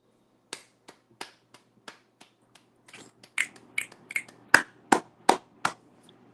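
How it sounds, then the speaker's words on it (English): Audience finger snaps after a poem at a spoken-word gathering. Scattered single snaps come first, then they grow louder and denser into a quick run of sharp, close clicks before fading out, with no talking. "Snap it and clap it up for dear brother Obbs"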